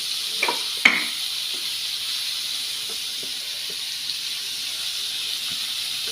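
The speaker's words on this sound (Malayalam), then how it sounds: "ഉള്ളി നല്ലവണ്ണം വഴറ്റണം" Onions sautéing in a pan, giving a steady close hiss and sizzle with a couple of sharp clicks near the start, alone with no talking.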